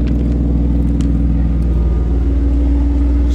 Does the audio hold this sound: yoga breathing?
no